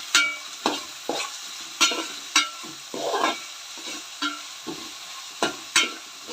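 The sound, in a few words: stirring onions frying with salt in a pan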